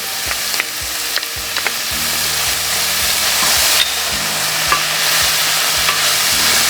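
Garlic hits a hot frying pan and sizzles loudly and continuously close by, with several sharp spoon taps and scrapes of stirring mixed in.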